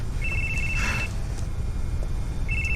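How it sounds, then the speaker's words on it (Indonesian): Telephone ringing in two electronic trills, each a steady high tone lasting under a second with a short gap, faint over a low background rumble. "Lucas pun mendapatkan telepon dari Catherine."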